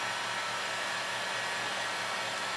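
A heat gun blows a steady, even rush of hot air while heating vinyl roof wrap on a 2015-2016 Subaru WRX, a continuous breathy roar close by with no talking.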